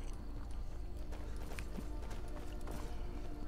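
A horse gallops in the video game Skyrim, its hooves drumming in a quick continuous rhythm under a dense, steady wash of game ambience, moderately loud throughout.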